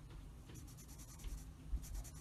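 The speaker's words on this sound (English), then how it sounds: "I like to use the side of my pencil like that" Pencil lead laid on its side and shaded across paper while doodling inside a mandala coloring page, a close, quiet scratchy rasp in quick repeated back-and-forth strokes with a few soft taps.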